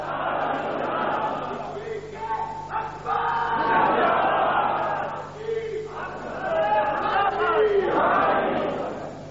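A crowd at a Sunni religious gathering shouts a response to a slogan. Several loud waves of massed voices rise and fall across the clip, sounding fairly close and filling the room.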